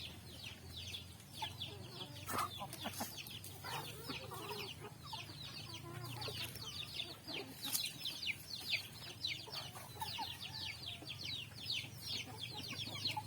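A flock of native chickens clucks busily while drinking at a waterer on a poultry farm, with overlapping short, repeated clucks at moderate loudness and a steady low hum beneath.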